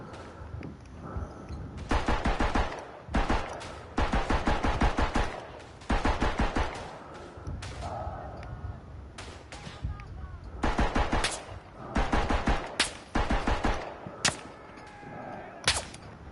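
Gunfire in a World War I Western Front shooter game, with bursts of rapid shots and single cracks spread through the clip. Some are loud and close and some further off, over a steady battlefield background.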